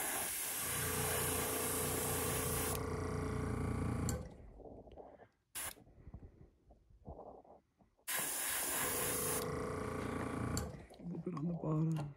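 Loud, continuous hiss of an airbrush or paint sprayer laying white base coat on an old Rapala fishing lure, in two long full-blast bursts separated by a quieter pause with small handling noises.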